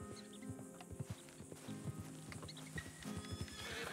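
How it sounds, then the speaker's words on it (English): In Red Dead Redemption 2, a called horse arrives with a run of rhythmic clip-clopping hooves and snorts, then gives a whinny near the end over a low game ambience. "Let's see if I can call in the horse."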